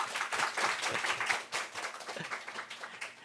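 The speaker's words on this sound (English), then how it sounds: "why don't we give another round of big applause to Ambassador?" Audience applause for Ambassador Kim at a climate resilience and adaptation session, a fairly steady round of clapping from a seated crowd that thins slightly partway through.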